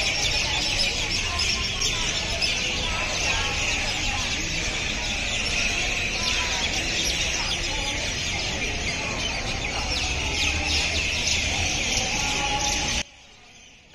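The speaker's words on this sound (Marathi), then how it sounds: "इथे पक्ष्यांचा एवढा खूप छान आवाज येतो ना" Birds chatter and chirp densely and steadily outdoors under trees beside the Brahma Chaitanya Gondavalekar Maharaj samadhi temple, a busy, continuous chorus with fowl-like clucks mixed in that runs for about thirteen seconds before stopping abruptly.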